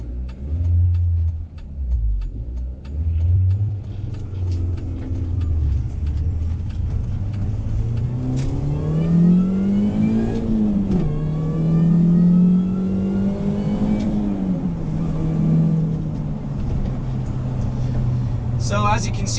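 A Mini Cooper S with a 1.6 liter four-cylinder engine accelerates hard from inside the cabin, its engine note climbing through the gears with rising and shifting pitch, while someone talks over it.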